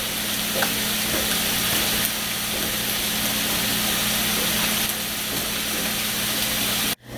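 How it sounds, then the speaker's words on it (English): Vegetables cook down in a pan on a home stove, giving a steady loud sizzle and bubbling hiss that runs without pause and cuts off abruptly near the end; no voices. "these veg are still cooking down"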